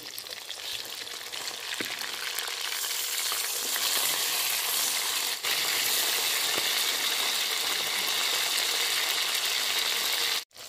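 Tank-farmed tilapia fish fries in hot oil with a loud, continuous crackling sizzle that holds steady throughout and ends with a sudden clunk.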